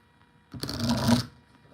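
Tarot cards are shuffled in one quick riffling burst lasting under a second, close and crisp, after a brief quiet start and fading back to near silence.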